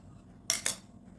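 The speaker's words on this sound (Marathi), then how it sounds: "तर आपण आता ह्याला कापून घेणार आहोत" A knife cuts through rolled samosa dough on a board, two quick sharp strokes close together, crisp and near in an otherwise quiet kitchen.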